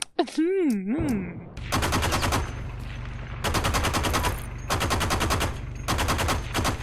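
Heavy automatic gunfire from a vehicle-mounted gun in the shooter game Heroes & Generals, fired in several long rapid bursts with short gaps, loud and close, after a brief wavering electronic tone at the start.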